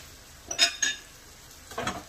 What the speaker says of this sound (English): we're going to now add our butter